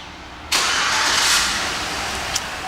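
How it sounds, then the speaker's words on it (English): A 2007 Chevrolet Suburban LT engine started by remote start: a sudden, loud crank-and-catch that settles into a strong, close idle with a small blip near the end. "One of the many features in this vehicle is the remote start"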